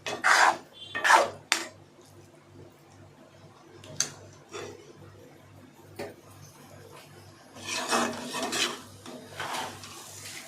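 A spatula scrapes and taps against a pan while egg is stirred for muttai sadham. Sharp metallic scrapes and clinks come in irregular bursts over a faint, steady background hum.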